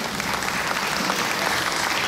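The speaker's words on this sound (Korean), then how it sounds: "다시 한번 정인삼 명인께 뜨거운 박수 부탁드립니다." Warm, dense applause from a concert audience at a traditional Korean music performance honoring a master musician, loud and continuous with no voices over it.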